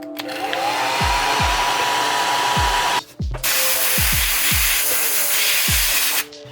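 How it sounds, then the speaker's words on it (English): Blow dryer drying paint on a Heroforge miniature between coats, a loud steady whooshing blast that cuts off briefly midway and restarts, with soft low thumps underneath. "in between coats, I'll come in with my blow dryer and get it to dry quicker"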